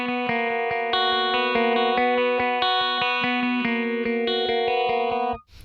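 Clean electric guitar picking looping open strings through a phaser pedal, a steady stream of bright ringing notes with a slow swirling sweep, played alone and fairly loud before cutting off at the end.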